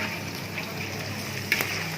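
Steady broadband sizzle of pork skin crackers frying in hot oil with onions, continuous and close, with a brief louder crackle near the end.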